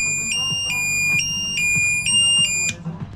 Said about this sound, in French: c'est juste une petite minuterie, c'est assez simple. Et ça fait pas mal de bruit.